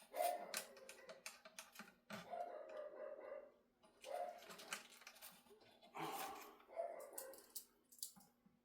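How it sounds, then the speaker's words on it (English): Dogs bark indoors in a guitar building workshop, giving several loud separate bursts of barks with short pauses between them. "Again, excuse the pups."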